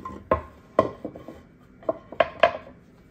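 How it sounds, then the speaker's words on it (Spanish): A wooden board is set down on a counter while a home coffee bar station is arranged, giving a few sharp, close knocks and light clatters spaced apart, with soft rubbing between them and no voices. "Y después voy a estar colocando esta otra tabla de madera aquí a un ladito de mi cuadro."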